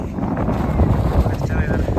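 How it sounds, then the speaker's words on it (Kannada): Strong wind gusting across a fog-covered hilltop at Devaramane during a bike ride, a continuous buffeting rush close to the microphone with faint voices underneath. "ಬಟ್ ಗಾಳಿ ಮಾತ್ರ ಚೆನ್ನಾಗಿ ಬೀಸ್ತಾ ಇದೆ"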